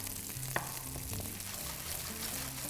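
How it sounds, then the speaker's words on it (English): Food frying in a pan until brown, a steady close-up crackling sizzle with one sharp tap, running alone under a faint low background hum. "So you just fry it off until it's nice brownish."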